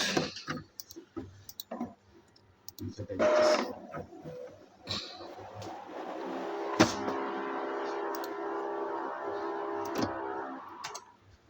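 An Epson L3110 printer powering back on, with clicks and ticks followed by a steady mechanical whir and hum of the mechanism, close by, with brief talk early on.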